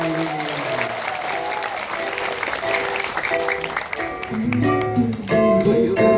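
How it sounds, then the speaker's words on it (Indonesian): An audience at a large gathering bursts into sustained applause, dense clapping that fills the space throughout and blends with music rising beneath it toward the end. "Tepuk tangan buat kebersamaan kita."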